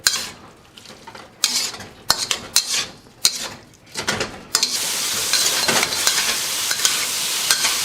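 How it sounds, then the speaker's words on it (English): Metal utensils clatter and scrape against a pan in quick bursts while stir frying chicken, then a steady loud sizzle of food frying takes over. "So give this a last stir fry"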